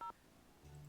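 Cell phone keypad tones in the 2003 Nancy Drew game The Haunted Carousel, two short electronic beeps with a brief pause between them, quiet and clean with no talk.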